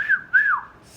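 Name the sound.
man imitating a whistle at a girl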